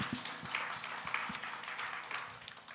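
Applause from a church congregation at an early-morning prayer service, a soft, steady patter of many hands with a few louder claps, heard from a moderate distance with no talking.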